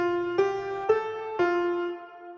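A brief three-note melody beginning on F, played on a bright sustained keyboard-like tone, slightly higher in pitch, with notes roughly half a second apart and a gentle decay at the close; no voices.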